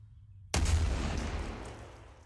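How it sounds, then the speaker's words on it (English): A single artillery gun fires once after a short silence, a sudden heavy boom with a long rumbling decay, loud and fairly close at an outdoor firing exercise. "Hill, ready, fire when ready"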